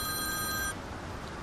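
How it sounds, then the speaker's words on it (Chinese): A telephone rings with an electronic bell tone for under a second, then cuts off, leaving quiet room noise. "电话。"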